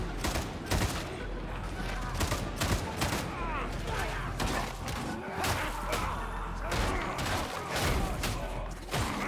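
Guns fire in a Darktide battle in a dense, continuous volley of sharp shots and thumps, loud throughout with no pause, and faint voices can be heard in the background.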